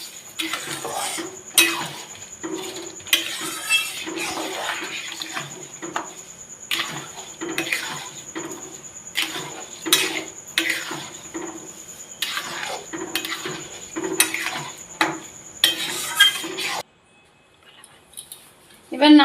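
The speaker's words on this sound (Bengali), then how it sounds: "এবার চিনি দিয়ে নাড়াচাড়া করে কিছুক্ষণ পর নামানো হবে।" Semolina (suji) with sugar is stirred in a metal pan with a spoon, a steady run of close scraping and clinking strokes for most of the time, then a quieter tail.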